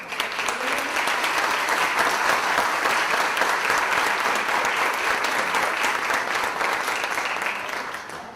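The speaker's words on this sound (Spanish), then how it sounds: "Le damos un aplauso." Applause from an audience greets a speaker at a university talk on child trafficking cases, a dense, steady wash of clapping that holds loud and even for the whole stretch before easing slightly at the end.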